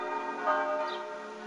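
Church bells ring out at the Church of the Holy Sepulchre in Jerusalem, a sustained, resonant metallic peal with layered overtones that hangs in the air at moderate loudness.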